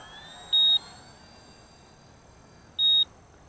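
Two short electronic timer beeps, steady single-tone chirps spaced about two seconds apart, sounding clearly over a quiet room background with no talking.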